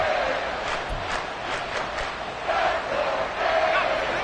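A stadium crowd at an American football game roars steadily ahead of a big third down, a dense, loud, continuous wash of cheering and shouting that swells slightly toward the end.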